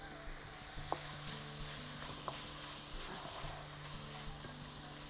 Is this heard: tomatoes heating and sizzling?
yes